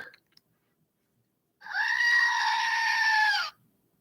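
A screaming goat sound effect: one loud, sustained, harsh bleating scream lasting about two seconds after a short stretch of near silence, heard alone.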